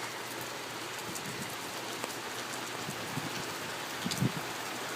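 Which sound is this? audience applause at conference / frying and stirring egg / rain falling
rain falling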